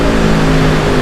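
Yamaha R1 sport motorcycle engine fitted with a new exhaust still running through its stock mufflers, a short steady rev with a strong low tone, loud and close, lasting about a second.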